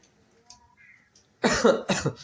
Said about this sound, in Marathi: खोकला वगैरे यायला लागलाय